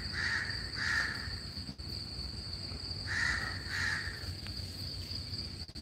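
Two pairs of harsh caws from a crow, the pairs a couple of seconds apart, over a constant high insect-like whine and background hiss.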